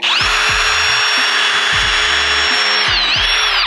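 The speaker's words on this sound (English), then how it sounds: "I like to pre-drill my holes before I put the screws in" Power drill pre-drilling screw holes in wood for a window install's bottom plate, a loud, steady high whine that holds throughout and dips briefly in pitch near the end, with low knocks beneath.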